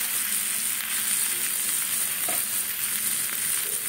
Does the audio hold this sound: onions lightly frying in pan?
yes